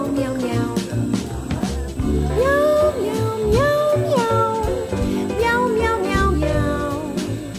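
A voice mimics a cat, repeating rising and falling meows in a steady rhythm, loud and close over busy music.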